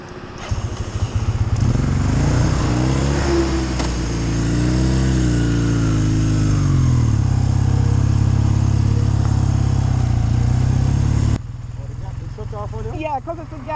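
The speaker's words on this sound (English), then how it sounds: "I hear that familiar thumping of the engine as it comes back to life." A motorcycle engine sputters back to life after running low on gas, settling into a steady, loud thumping idle with a voice talking over it. The engine cuts off sharply near the end, leaving quieter background sound.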